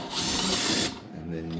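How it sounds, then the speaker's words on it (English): Power drill boring pocket holes through a jig into wood, a steady loud whine for under a second that cuts off, followed by a lower mechanical hum. "And then the next step is to use the drill to drill out the holes."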